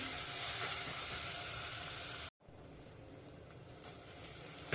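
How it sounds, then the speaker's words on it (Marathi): Onion, ginger and garlic sauté in a pan over low heat, producing a continuous soft sizzle that drops out briefly midway and then resumes quieter. "कांदा आणि आलं लसूण व्यवस्थित परतून घ्यायचं आहे"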